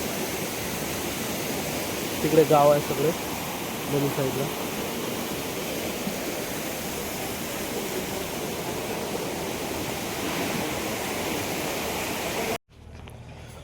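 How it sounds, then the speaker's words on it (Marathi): A river flows in a steady, broad rush of water that holds constant throughout and cuts off abruptly near the end, while someone speaks briefly over it. "हे बघा नदी चाललं पुढे"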